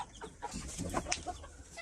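Chickens cluck in a backyard coop, with roosters kept among the hens; several soft, overlapping clucks and short calls come through a steady low ambient background at moderate distance.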